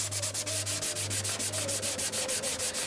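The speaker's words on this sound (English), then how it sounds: "I'm hoping this is the last time I'm going to dry sand this out" Dry sanding of a model boat hull by hand, a steady rhythmic rasping of abrasive paper in quick back-and-forth strokes, close and continuous with no talking.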